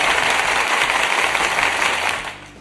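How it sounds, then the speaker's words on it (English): Applause from a studio audience at a wrestling post-show, dense broadband clapping held steady before trailing off at the end. "Give him a round of applause."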